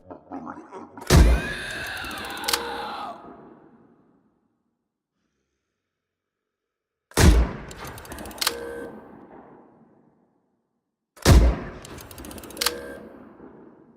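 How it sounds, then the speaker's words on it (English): Three huge layered sci-fi railgun gunshot sound effects, each a sharp blast followed by a metallic mechanical clank and a long decaying rumble, separated by silence. "we built an appropriately large gunshot sound of a few different layers"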